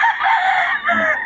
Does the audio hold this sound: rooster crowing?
yes